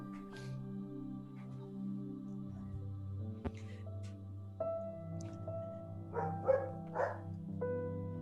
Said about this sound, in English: I don't know what's going on with my dog, but apparently she's yelling at everybody that's walking by today